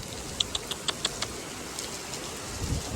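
Afternoon rain in Xaisomboun, Laos, a steady soft patter with a run of distinct close drips and taps early on over a continuous wash of noise.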